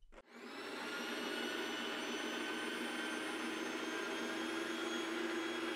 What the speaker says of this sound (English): So now that we're here, we're gonna hit grind.